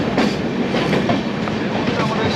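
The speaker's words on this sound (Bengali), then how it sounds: "আমাদের সামনের ট্রেনটা ছেড়ে বেরিয়ে যাচ্ছে" A Benares to New Delhi passenger train (number 12581) pulls out of an Indian station, its wagons rolling past close by with a loud, steady rumble and rhythmic clickety-clack of wheels throughout.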